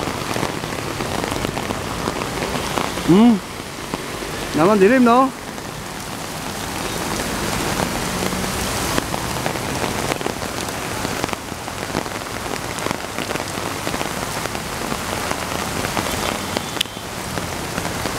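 Heavy afternoon rain pouring steadily onto surfaces, a dense constant hiss that runs throughout, with brief voices speaking near the start.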